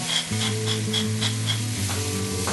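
Green beans sizzle steadily in a hot skillet, up close, with rhythmic scraping stirs repeating about every half second. No one speaks.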